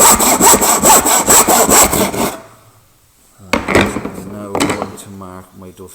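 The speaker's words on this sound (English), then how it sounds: "I will get my bench hook, tenon saw." Tenon saw cutting wood held on a bench hook: a quick run of close, loud back-and-forth rasping strokes, a pause, then a few more strokes.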